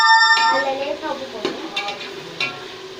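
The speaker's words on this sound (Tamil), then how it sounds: "தக்காளியை போட்டு நல்லா வணக்கி" Tomatoes sauté in a pan for mushroom biryani, with a steady sizzle and several distinct stirring scrapes and clinks against the pan, close and fairly loud.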